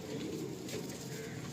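Pigeons coo softly inside a loft, faint and low against steady background hum, in a brief stretch with no talk.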